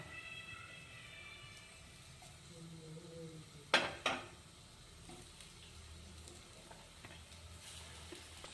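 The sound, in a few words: eggplant frying in oil in a pan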